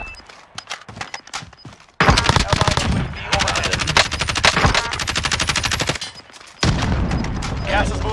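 Automatic weapon fire in Call of Duty Warzone, loud rapid bursts crackling in several sustained volleys with brief gaps, close to the player amid other game effects.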